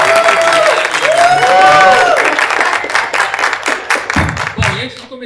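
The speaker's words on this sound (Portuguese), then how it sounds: "agora a gente tem um espaço para as palmas" Audience applause at a horror film festival event, crowd clapping with some cheering and a whistle-like tone early on, thinning into scattered individual claps toward the end.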